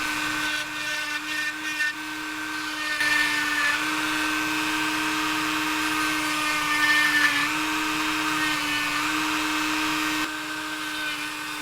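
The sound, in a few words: drilling powdered tungsten out of a fishing lure bait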